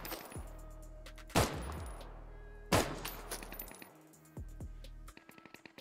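Sparse single gunshots in the video game Deadside fired into a bush, a few sharp cracks spaced well apart with metallic clinks and mechanical clicks between them, moderately close.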